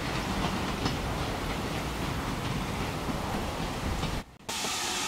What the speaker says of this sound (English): U-1806 gets her train to Norden underway from Cloisters.